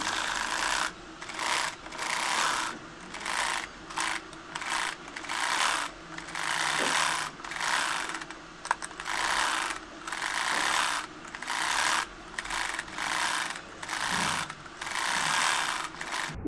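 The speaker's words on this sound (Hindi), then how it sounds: "इस तरह से हम फोल्ड करते जाएंगे और सिलाई लगाते जाएंगे।" Sewing machine stitching the folded hem of a frock, a steady close mechanical whirring in repeated bursts with short pauses between runs, no talking.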